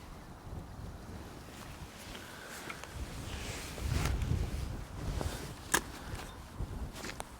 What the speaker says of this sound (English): That wind's freezing.